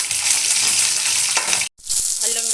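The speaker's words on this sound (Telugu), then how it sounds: "ఆనియన్ గోల్డెన్ బ్రౌన్ వచ్చేంత వరకు ఫ్రై చేసుకుందాము." Onions and four green chillies frying hard in a pan for ridge gourd curry, a loud continuous sizzle broken by a sudden brief silence near the end before the crackle resumes.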